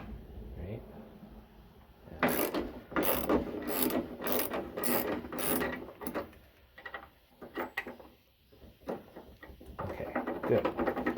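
Wrench or ratchet clicking in bursts on a bolt at the rear spring mount of a Ford Pinto drag car, several sharp metallic ratchet strokes close by with some quieter clanks afterward.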